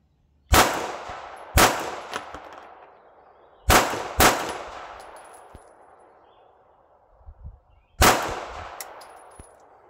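Sig Sauer P365 pistol with Spectre comp firing reloaded ammunition with Argentina primers, five sharp close shots in uneven spacing, two in quick succession, each with a ringing metallic decay.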